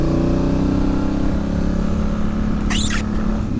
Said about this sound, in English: Sounds good, doesn't it, this engine